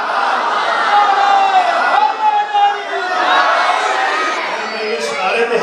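Crowd at a religious gathering for Jashn e Makhdoma, voices raised together in a sustained chant over a steady, loud wash of cheering and shouting throughout.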